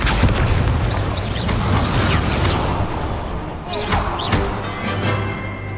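Incendio fire spell cast in the Hogwarts Legacy video game, a series of booming bursts and whooshing blasts layered over a dense, loud game soundscape with no pauses.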